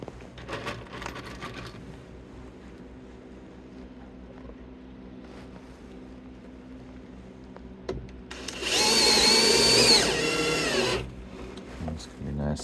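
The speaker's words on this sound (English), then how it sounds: "So again, pre-drill." A power drill pre-drilling a mounting hole in wood for a tree swallow nest box, one loud whirring burst of about three seconds after quiet workshop sounds, with a spoken voice earlier.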